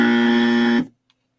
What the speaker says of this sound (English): When George reaches over to that side, it's the buzzer.